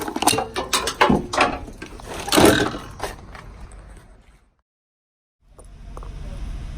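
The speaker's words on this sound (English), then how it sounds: "we can push down on the panel and pull it up" Plastic interior trim panel in a Chevrolet truck with a 6.5 diesel being pushed down, pulled away and lifted out, a run of close clicks, scrapes and rattles for several seconds, then quiet, then faint rustling.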